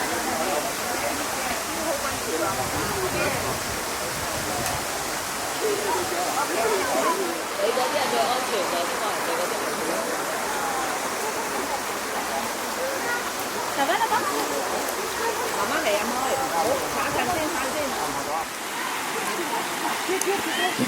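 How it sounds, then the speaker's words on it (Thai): Steady, loud rushing of flowing water in streams at the Emerald Pool in Krabi, Thailand, during the rainy season, close by and continuous throughout, with a dense splashing texture and no pauses. "น้ำนี่ไหลเป็นทางเลยนะครับ คือมาเป็นสาย"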